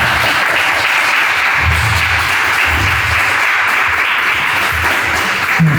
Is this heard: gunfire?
no